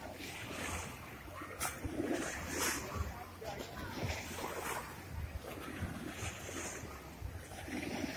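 Sea waves at a beach resort in Hurghada wash steadily against the shore as a faint, continuous surf hiss mixed with gusting wind noise on the microphone.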